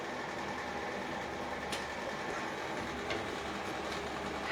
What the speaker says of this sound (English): let me unplug this heater